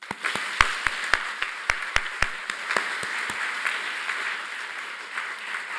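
Sparse, uneven hand claps from a small audience at a French event, sharp distinct claps close together at first, then thinning out into lighter, scattered clapping that fades over several seconds.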